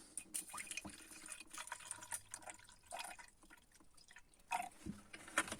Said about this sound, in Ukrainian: Наливаємо звичайний електроліт на основі сірчаної кислоти.